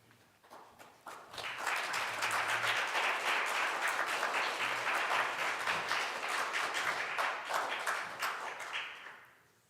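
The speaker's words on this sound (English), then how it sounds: "You're very kind with your applause" Audience applause in a synagogue sanctuary, a dense, sustained wash of clapping that swells quickly, holds steady for several seconds, then fades away.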